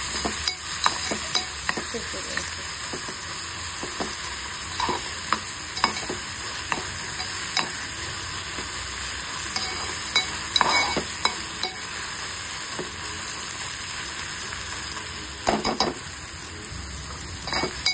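Masala sizzles and fries in oil in a pan for bombil ukad, a steady crackling hiss broken by frequent metallic scrapes and clinks of a spoon stirring against the pan.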